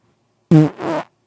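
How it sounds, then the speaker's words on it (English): A single close, loud fart, two quick bursts with a short gap between them, breaking an otherwise silent moment. "First fart of the cast"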